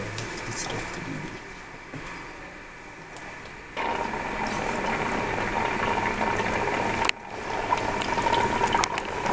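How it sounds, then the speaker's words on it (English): Sodium bicarbonate reacts in a lab demonstration, releasing carbon dioxide gas that is being captured, with a continuous bubbling fizz that grows louder in two sudden steps and carries on steadily without talk. "the reaction is vigorously producing carbon dioxide gas"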